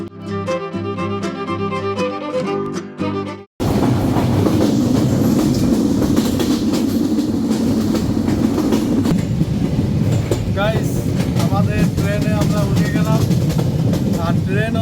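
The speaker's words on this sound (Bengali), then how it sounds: "চলছে আমাদের ট্রেন" A short stretch of music cuts to a loud moving passenger train on the Khulna to Rajshahi route, with steady rumbling, rhythmic clatter of wheels on track and occasional high squeals.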